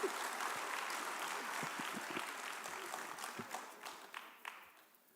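An audience claps at a twelfth-grade academic awards ceremony, a steady wash of applause that thins out toward the end, with a few sharper individual claps.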